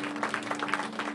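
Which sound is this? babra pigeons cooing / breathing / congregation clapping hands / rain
congregation clapping hands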